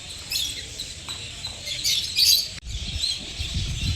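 Rosy-faced lovebirds in an aviary at Mysore zoo give shrill chirps and harsh squawks, coming in bursts at moderate distance over a soft background murmur.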